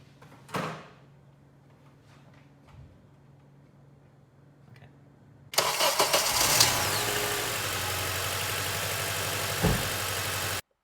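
A 2006 Acura TSX with a rough idle cranks and fires up about halfway through, then settles into a loud, steady idle after a short quiet stretch with faint background noise.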